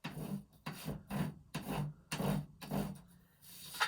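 An orange crayon rubs back and forth over the textured surface of a thin Lego base plate, six or seven close, quiet, rhythmic scratchy strokes with short pauses between them.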